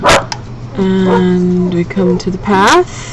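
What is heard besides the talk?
Jack Russell Terrier dog barking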